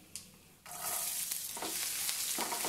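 Onion frying with mustard seeds in a hot pan starts quietly, then bursts into a loud, continuous sizzle as the ingredients are stirred, with scraping strokes running through the crackle.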